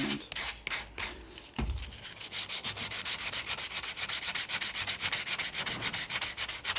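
Hand sanding on the fibreglass hull of a 27 ft Nauticus cruiser under restoration, heard as close, rapid back-and-forth rasping strokes in a steady rhythm after a few slower scrubs and knocks, with no talking.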